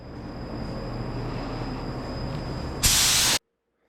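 A steady, close spray hiss of clear coat being sprayed onto a GFX bezel, holding even for about three seconds before a brief louder burst that cuts off abruptly.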